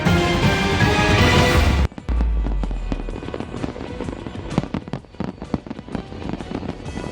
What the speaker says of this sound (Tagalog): Gamit ang mga drone at fireworks, ganito kainggrande ang naging salubong ng Ras Al Khaimah sa UAE sa pagpasok ng bagong taon.